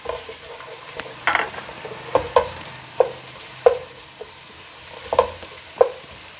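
Whole spices, cloves, small and large cardamom and cinnamon pieces, go into hot oil with a faint sizzle, while a string of distinct clinks and taps from stirring sounds close by.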